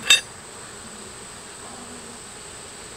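A steady, faint insect hum of honeybees working at an open hive, their propolis-sealed boxes nearby, runs throughout after a brief sharp sound at the very start, with no talking.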